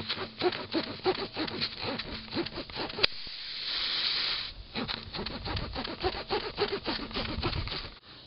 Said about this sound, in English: take this rasping tool and I'm going to go down inside this crack or this puncture here and rasp that out nice and clean and smooth